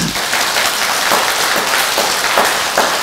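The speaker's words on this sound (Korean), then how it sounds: "이해가 되면 박수 한번 치라고." An audience at a Korean Buddhist dharma talk claps together in a dense, loud burst of applause that continues evenly for about three seconds.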